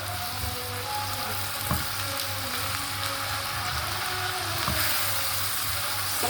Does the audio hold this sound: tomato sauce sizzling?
yes